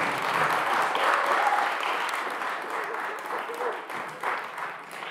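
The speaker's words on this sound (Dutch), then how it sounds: "ik hoop dat u thuis nog één keer heel hard wilt klappen en hier ook voor deze ontzettend fijne groep" Audience applause for a group at a school exam concert, a dense wash of many hands clapping continuously, loud at first and easing slightly toward the end.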